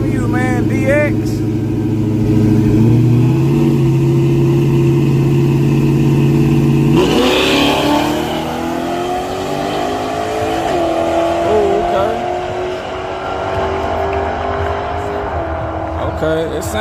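Modified drag racing car at a drag strip, engine note rising as it accelerates in a smooth pass, loud and sustained, with a voice talking over it throughout.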